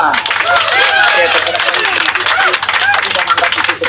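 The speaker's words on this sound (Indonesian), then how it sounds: "tepuk tangan buat Tuhan" Audience applause at a heated live religious debate, steady dense clapping from a crowd sustained throughout with a voice speaking faintly under it.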